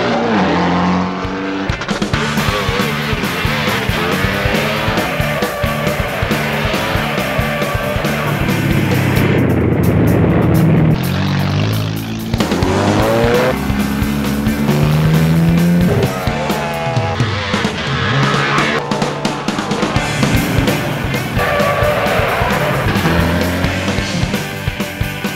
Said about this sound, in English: driving their macho machines all day and all night in the longest, toughest, and most dangerous race in the world